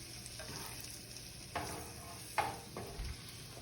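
Food being stirred in a hot pan with a faint steady sizzle underneath, broken by a few distinct scraping strokes of a utensil against the pan, close and fairly quiet.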